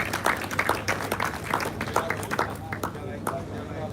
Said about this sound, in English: Can you please put a round of applause for the Trade Lenda Fair?